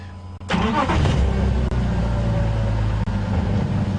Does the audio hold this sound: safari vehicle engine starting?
yes